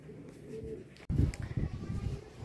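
Racing pigeon cooing close by, a soft low burbling coo repeated over a steady background, with no talk.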